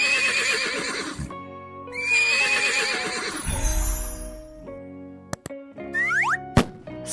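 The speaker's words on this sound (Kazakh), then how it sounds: "Жылқы." A horse neighs loudly in a long, shaking whinny, followed by a second whinny, then quieter snorts and short springy effect-like sounds, with no other voices.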